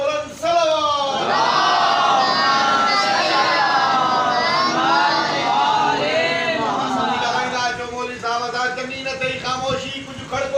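A large crowd at a Shia majlis gathering in Karachi chants salawat loudly in unison, many voices blending into a sustained roar that stays full for several seconds before tapering off.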